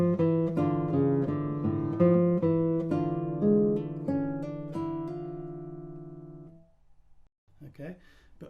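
Classical guitar plays a passage of sustained harmonic notes, the thumb stopping the bass A so the low note cuts off; the phrase rings and fades, then a brief sound of handling follows near the end.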